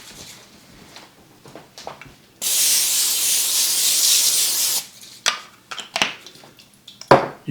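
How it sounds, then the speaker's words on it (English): Cooking spray hisses onto a pan in one steady burst of about two and a half seconds, loud and close, with softer kitchen clatter and handling noises before and after. "I'm going to spray the pan just a little bit"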